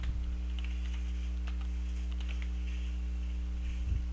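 Rapid keyboard typing, a flurry of soft clicks and taps, over a steady electrical hum with no voices.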